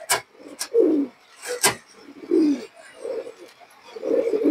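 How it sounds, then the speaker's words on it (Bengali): Colorful domestic pigeons coo in low, throaty bursts, several rounds close by, with a few sharp clicks and flutters between them. "অনেক সুন্দর কবুতর দর্শক, এগুলো রোডের জন্য খুবই ভালো"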